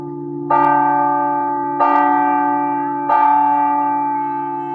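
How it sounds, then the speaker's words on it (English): A church bell in Athens tolls three times in slow, evenly spaced strikes, each ringing out loud and clear and decaying into a long humming resonance, with no talking. "The bell of the church is being really persistent."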